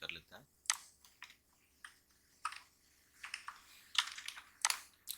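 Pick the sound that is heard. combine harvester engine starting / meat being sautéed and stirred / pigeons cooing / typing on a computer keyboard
typing on a computer keyboard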